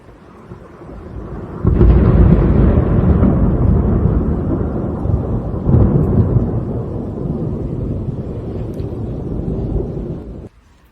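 Thunder rolls through a strong thunderstorm over Bordeaux, a loud, low rumble that starts abruptly and rumbles on for about nine seconds, swelling again midway before cutting off; no voices are heard.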